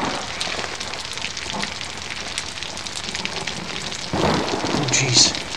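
Rain and thunder from the video game Outlast, a steady loud downpour with a rumble of thunder swelling near the end, heard alone.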